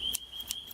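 Scissors snipping close to a microphone, two or three short crisp cuts spaced about a third of a second apart over a faint steady high whine.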